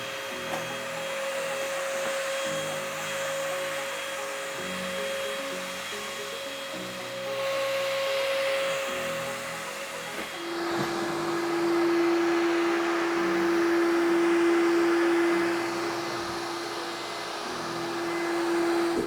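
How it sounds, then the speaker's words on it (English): A front-end squeegee vacuum picks up floor stripping slurry, its loud steady motor whine running throughout with a shift in pitch partway as the suction changes, and no voices. "So we just want to turn this on and pick up all the slurry."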